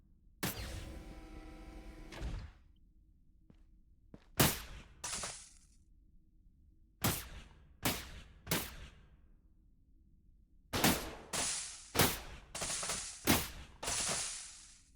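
Shotgun and rifle gunfire in the Orville interactive fan game, sharp separate shots fired one by one and in quick clusters, crisp and close with brief decays and no talk.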